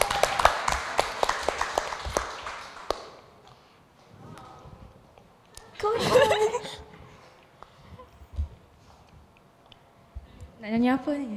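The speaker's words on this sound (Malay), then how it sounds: "Kita berikan tepukan gemuruh." An audience at a school debate final claps in a short burst that fades after a few seconds, followed by quieter room sounds, scattered voices and brief bursts of talk.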